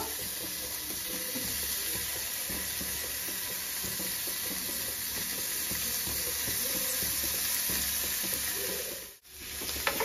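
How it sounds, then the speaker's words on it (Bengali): Crumbled mawa (khoya) frying and being stirred in a pan for chocolate gujiya filling, a steady close sizzle with scraping stir strokes throughout and a brief dip near the end, no voices. "এবারে এটাকে আমি না গলতে দেবো আর ভালো করে এটা পাকাবো যতক্ষণ না ব্রাউন কালার না হয়।"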